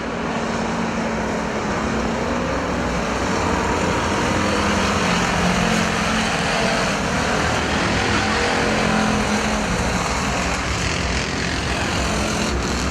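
American Factory Stock cars racing at night at Perris Auto Speedway, a dense, loud, steady roar of several engines running together for the whole stretch with no talk over it.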